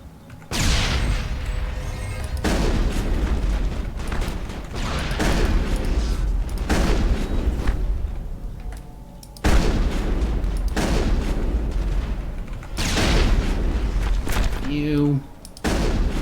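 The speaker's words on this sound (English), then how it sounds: "Throw a grenade at the husk's feet now" Booming grenade explosions and gunfire fill a Mass Effect (2007) combat scene against husks, loud and nearly continuous with several heavy blasts, while voices talk over the action.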